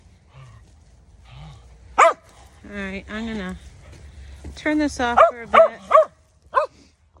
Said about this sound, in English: before the dogs drive you nuts with their barking